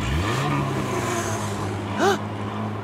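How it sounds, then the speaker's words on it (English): Heavy monster truck engines roar and rev steadily, loud and close, with a cheering crowd and a brief higher whine rising near the end. "It's a crowd cheering and monster trucks roaring."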